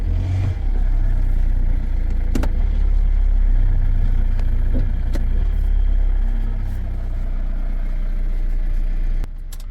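A Toyota semi-automatic car pulls away under throttle, its engine rumbling loud and steady with low-end roar and a few sharp clicks and clatters along the way, fading slightly near the end.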